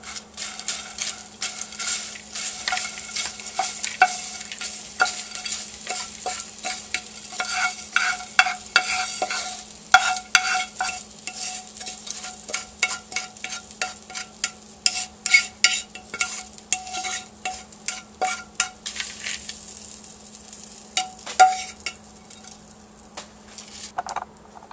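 A spoon or utensil works sautéed ramen noodles into broccoli coleslaw in a bowl, giving a busy run of scraping, rustling and light clinking that rises and falls in irregular bursts over a faint steady hum.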